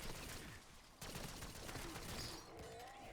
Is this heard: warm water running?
no